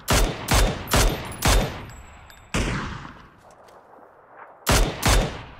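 Loud bursts of gunfire from the battle royale game PUBG, several rapid volleys in quick succession, a pause with fading reverberant tail, then two more close, sharp bursts.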